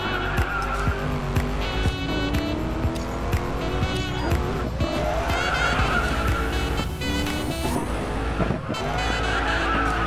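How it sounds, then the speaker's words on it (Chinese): Chevrolet Camaro muscle car drifting in a racing video game, loud engine roar with repeated long tire squeals and skids, continuous and close, a voice talking faintly underneath. "肌肉车的甩尾就是不一样，特别的有力量"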